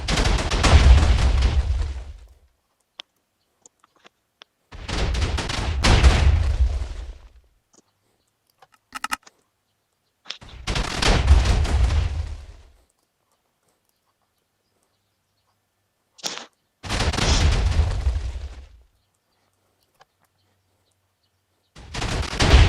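A Minecraft TNT cannon fires through walls in four heavy rumbling bursts, each about two seconds long and spaced several seconds apart by near silence and faint clicks.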